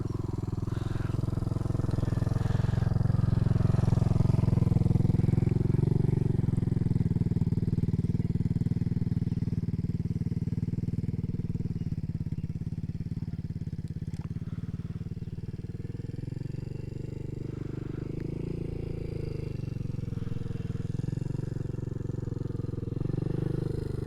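A motorcycle engine drones steadily at low speed as it makes slow turns in a field, swelling loudest early on and then easing off to a softer, even rumble at a moderate distance.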